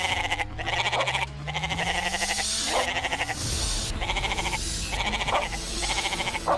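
Goats in the video game Animal Fight Club, bleating repeatedly and loudly in quick overlapping calls against busy game sounds.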